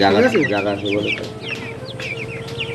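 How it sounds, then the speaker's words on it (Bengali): Several chickens on a goat farm cluck and squawk close by in a busy, overlapping chorus, with a person briefly talking at the start. "আর এই পাশে দাদা খুব শৌখিন কিছু মুরগি রেখেছেন"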